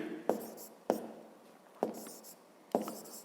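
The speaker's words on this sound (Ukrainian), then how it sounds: "Тобто пишемо." Handwriting an answer, four distinct taps and scratches of pen on paper spaced about a second apart, quiet and close, with no talking.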